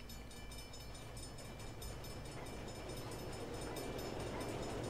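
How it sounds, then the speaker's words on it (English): A train passes in The Crew (beta) driving game as a steady, faint rolling rumble with a light rattle of railroad cars, continuous throughout and with no speech. "there's a train coming."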